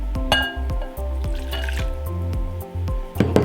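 Hot water pours into a bowl of minced garlic for a Vietnamese noodle salad dressing, a brief liquid splash and trickle heard close up beneath a steady musical background.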